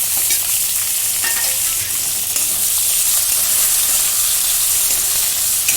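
Tomato, onion and chili fry for dal khichdi in a loud, continuous close sizzle with faint stirring scrapes. No one speaks.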